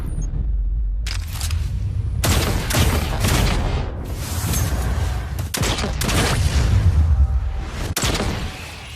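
Kinetic hand cannon (Kindled Orchid) firing in the Destiny 2 shooter game: a run of loud, sharp gunshots with heavy booming impacts, fired in irregular bursts and leaving brief gaps of rumble and echo, with no talking.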